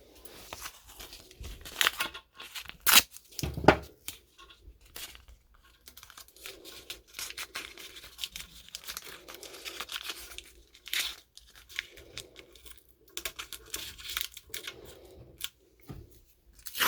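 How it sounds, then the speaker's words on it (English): Tape being torn to hold a cotter pin in place during ball joint installation on a 1977 C3 Corvette, with several sharp ripping and crinkling bursts among quieter handling noises. "I'm just going to tape it in place."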